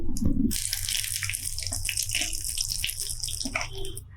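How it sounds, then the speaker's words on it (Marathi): After a short clatter, water splashes and trickles into a cooking pot to be boiled, a steady pouring sound that tapers off at the end. "इथे मी हे टोपामध्ये पाणी घेतलंय"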